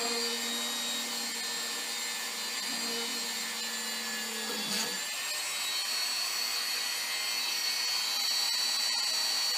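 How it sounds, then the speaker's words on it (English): A power drill boring pilot holes in a Hobby Lobby display case being made into a DIY tarantula enclosure makes a steady, close motor whine whose pitch shifts partway through, running continuously with no talking. "now let's get to drilling these holes"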